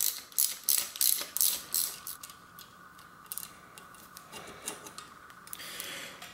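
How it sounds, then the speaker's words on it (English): Brake being taken off a vintage women's road bike during a restoration: a run of quick, sharp ratcheting clicks and metallic ticks up close, loudest in the first two seconds and then settling into softer, intermittent clicking. "Remove the other brake."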